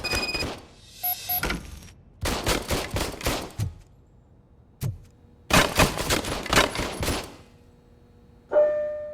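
A police service pistol firing in the game RoboCop: Rogue City, loud close clusters of rapid shots in several bursts with quiet gaps and a single isolated report between them, then a short electronic tone at the end.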